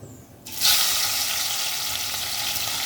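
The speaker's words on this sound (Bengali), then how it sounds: "তেলটা গরম হয়ে গেছে, আমি বেছে ধুয়ে রেখেছি এবং নুন হলুদ মাখিয়ে রেখেছি। আমি এখানে চিংড়ি মাছগুলো এখন ছেড়ে দেবো।" Salted, turmeric-coated prawns hit hot oil with a sudden loud sizzle that jumps up after a quiet moment, then holds as a steady, bright frying hiss.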